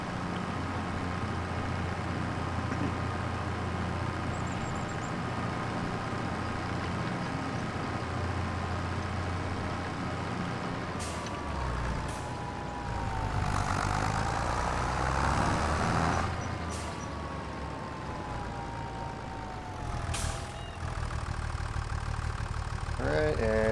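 A tractor in Farming Simulator 25, limited to about 23 miles per hour, idles with a steady, droning engine hum that holds even throughout, with a few brief clicks and shifts in tone partway through.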